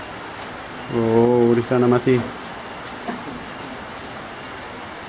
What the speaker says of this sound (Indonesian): Karena hujannya sangat. Daerah pegunungan yang ini hujan terus.